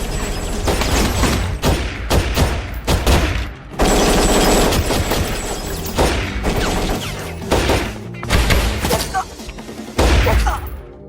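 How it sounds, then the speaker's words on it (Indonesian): A film gunfight with rapid bursts of gunfire, thudding shots and booms that come in dense volleys. The firing cuts out briefly between loud barrages. "James, Bianca, dan William yang masih beradu tembak dengan 3 anak buah Risteville yang tersisa"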